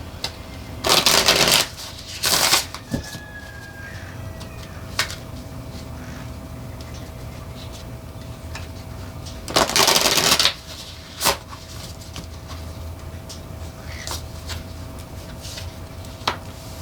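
Tarot cards are shuffled and dealt out on a table, with a few loud, crisp riffling bursts of shuffling and soft card snaps separated by quieter stretches.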